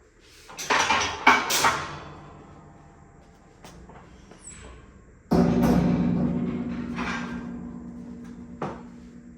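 Metal parts of a 4-inch door pusher tool from an electro-hydraulic breaching kit being reconnected: several sharp clanks and clicks early on, then a louder metallic clunk with ringing, and a few lighter taps, close up with no talking.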